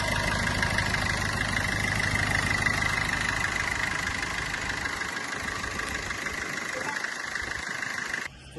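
A 2018 Brezza VDI diesel car with 78,000 km idles close by with a steady, even rumble that runs unbroken for about eight seconds before cutting off abruptly.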